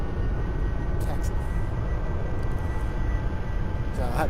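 A simulated airliner taxiing in a flight simulator gives a steady, loud engine roar and rumble, constant throughout, with someone talking faintly underneath.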